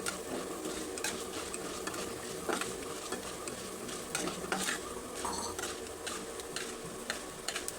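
Lentils frying in a pan, with a spoon stirring and scraping through them; quiet sizzling mixed with frequent clinks and ticks of the utensil against the pan, close up and without talk.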